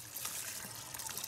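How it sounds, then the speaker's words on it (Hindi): Water pours steadily for compost mixing on a farm, a continuous splashing and trickling flow heard alone and up close. "66 लीटर पानी पूर गेलै आब।"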